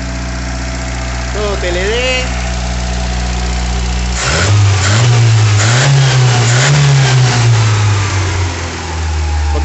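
A Volkswagen Pointer engine cranks and catches partway through, then settles into a loud, close idle with a brief rev, while someone speaks briefly beforehand.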